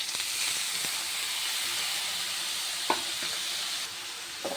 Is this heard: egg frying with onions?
yes